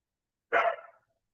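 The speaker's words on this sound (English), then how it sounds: "Can you do me a favor, dog, and be quiet?" A single sharp dog bark heard close and loud in an otherwise silent room, lasting about half a second.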